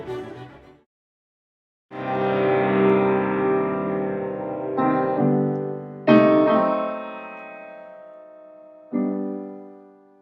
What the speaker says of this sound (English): What you just heard was the first few bars of the opening movement of Beethoven's Sonata No.